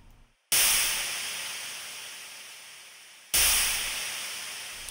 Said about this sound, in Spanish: suena más como un golpe de splash, pero sigue siendo eso, ¿no? Un golpe fuerte a uno de los platillos.